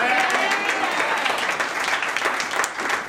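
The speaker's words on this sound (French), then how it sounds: "Acclamation pour le pasteur Alléluia" Church congregation at a Sunday service applauds its pastor, sustained dense clapping from many people filling the room, with some voices mixed in.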